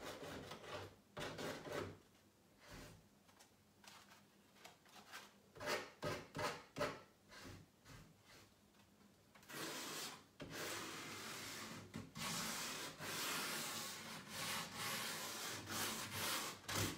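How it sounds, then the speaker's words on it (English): Sanding along the edges of a wooden corner cabinet to distress it, heard as quiet rhythmic scraping strokes with short pauses, growing into longer, steadier rubbing toward the end. "Right now, I'm just distressing all of the natural edges where things would already wear."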